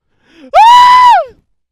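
A man screams into a microphone during a comedy set, one loud, sharp, tonal shriek lasting under a second after a short intake of breath.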